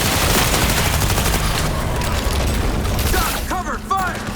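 Gunfire in the Cyberpunk 2077 video game crackles as a dense, sustained volley of rapid shots mixed with booms, with a voice shouting briefly near the end over the continuing firefight.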